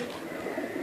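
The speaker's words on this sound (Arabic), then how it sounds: "هذني كلها طيور معروفة من الشلبيات من الجنس اليهودي" Iraqi Shalabi pigeons coo softly in a short, low burst, with a hint of other birds in the background.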